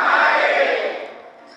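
A crowd at a Marathi Shiv Puran katha gathering shouts a loud, sustained collective chant of "Har Har" that swells briefly and then fades away.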